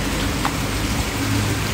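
Steady rain falls continuously after a day and night of downpour, a dense, loud hiss with no voices and no break.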